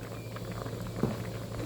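Thai coconut-milk red curry bubbling at a steady boil in a pot, a continuous low rolling burble with soft popping patter, close and moderately quiet with no talking.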